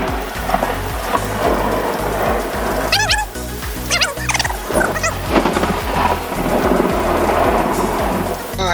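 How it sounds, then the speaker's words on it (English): Heavy rain pours steadily while deep rolls of thunder rumble nearby, with sharp crackling strikes rising and falling over several seconds. "Got another crazy thunderstorm going on here."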